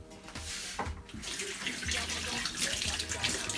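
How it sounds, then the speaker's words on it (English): Tap water runs steadily into a sink, splashing and gurgling as a halved pepper is rinsed under the stream, with faint knocks and a soft voice underneath. "Then I just like to rinse the inside."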